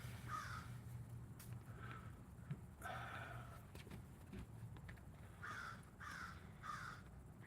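A crow caws from some distance outdoors, a few harsh calls in separate bursts over a low steady background hum, fairly faint.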